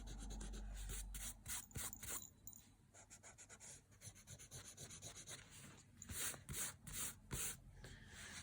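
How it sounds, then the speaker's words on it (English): An eraser rubbing out pencil edges on a paper drawing of a conch shell, quiet close bursts of scrubbing strokes in uneven rhythm. "I just rub out the edges."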